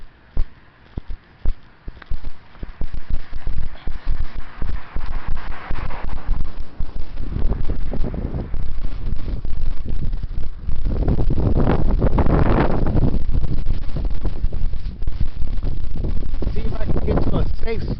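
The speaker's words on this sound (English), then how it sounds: "Got trash blown out of place by this heavy wind." Heavy wind outdoors, strong gusty rumble buffeting the microphone almost continuously, with footstep-like thumps and scattered clatter.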